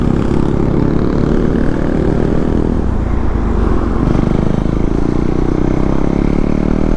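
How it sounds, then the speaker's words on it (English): A Yamaha MT-09 motorcycle engine roars close by, a loud, sustained rumbling drone that swells and shifts pitch as the bike passes fast on an open, foggy road, with no talk. "Ooh, MT-09, beautiful sound"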